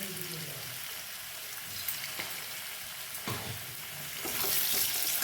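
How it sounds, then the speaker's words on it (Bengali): Potatoes frying in a pan of oil for a potato curry make a steady sizzle, with occasional stirring scrapes and a louder hiss toward the end. "আলু হালকা ভাজা হয়ে গেছে।"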